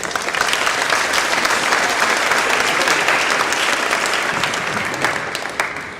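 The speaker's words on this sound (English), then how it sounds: "Give yourselves a round of applause, guys." Hearty applause from an audience honoring graduating seniors at a college senior awards event, continuous dense clapping that holds steady and then fades toward the end, with no talk.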